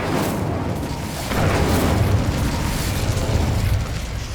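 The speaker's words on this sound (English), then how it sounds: "Incendio." A fire spell cast in the video game Hogwarts Legacy, a loud, dense fiery roar that swells into a stronger burst partway through and holds steady to the end.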